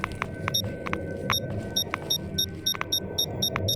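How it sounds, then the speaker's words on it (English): An anomaly or artifact detector in the S.T.A.L.K.E.R. game chirps in quick, irregular clusters of short, high electronic beeps over a low, rumbling ambient bed, moderately faint throughout. "Now, is that beeping because of an artifact or an anomaly?"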